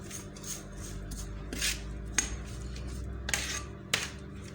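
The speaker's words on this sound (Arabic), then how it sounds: "غادي نخلط هاد العناصر مع بعضياتها مزيان" A spoon clinks and scrapes in a bowl while mixing a garlic, coriander and oil marinade for mullet fish, giving several distinct taps over a low background hum.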